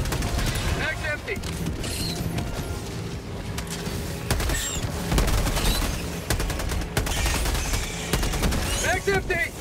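Sustained automatic gunfire from the shooter game Helldivers 2, dense bursts and scattered sharp shots with mechanical clanks and reloads throughout, a voice talking intermittently over the battle.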